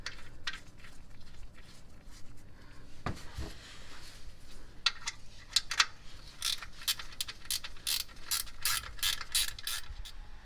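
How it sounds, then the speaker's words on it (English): Close metallic ratchet clicks in quick rhythmic runs, mixed with tool handling and small clinks, while an oil drain plug is threaded back into a 2016 Ford Explorer. "we want to go ahead and reinstall our drain plug"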